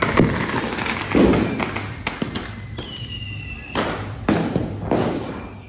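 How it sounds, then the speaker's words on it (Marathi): Firecrackers burst repeatedly at a village palkhi procession for a Bahirinath festival, giving loud, sharp, uneven cracks and thuds that rise over the crowd's background din. "सहज फटाकड्या पडतात सहज."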